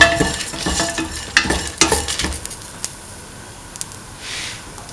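Vegetables for a lentil carrot stew are stirred in a hot pan, with a spoon scraping and knocking in bursts over a light sizzle that settles into quieter frying toward the end.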